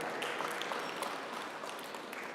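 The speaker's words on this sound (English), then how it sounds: "Please, a round of applause for Professor Lalu." Faint, steady applause from an audience at a research centre launch for a professor, a soft continuous patter of many hands, distant and low in level.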